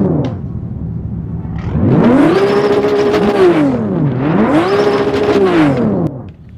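A max-upgraded Toyota Supra MK4 engine in the Drive Zone Online racing game revs hard and loud. Its pitch sweeps up and down in two big surges over a steady drone, with no talking.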